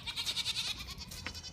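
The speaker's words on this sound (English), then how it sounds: "This is the goat herd that we have now." Several goats in a farm herd bleat in a quick run of wavering cries, fairly close, then a later single call, with no talk over them.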